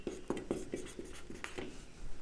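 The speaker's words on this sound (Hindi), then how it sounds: "यहाँ पे साइड पे लिखता हूँ 1 माइक्रोन" Chalk or marker writing on a board in a physics lecture, a series of short scratchy strokes in quick, uneven rhythm, close and moderately quiet.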